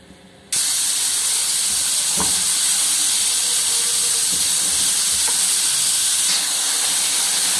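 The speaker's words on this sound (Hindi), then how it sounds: "इसके बाद हमने इसे चूल्हे पे लगा देना है। हल्की आंच पे इसे पका लेंगे हम अच्छी तरह।" Chicken sandwich filling cooks in a pan on a stove over low heat, giving a steady, close sizzling hiss that starts suddenly and continues evenly, with a few faint clicks.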